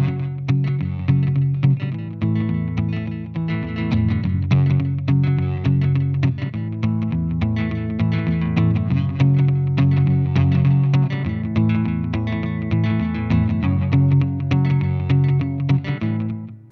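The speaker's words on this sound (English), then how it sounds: "let's add a little bit of a slapback echo, open it up a little bit" A Godin 5th Avenue Kingpin archtop guitar plays a continuous country-style passage through a slapback echo effect, loud and close, with steady picked notes and a doubled, repeating attack.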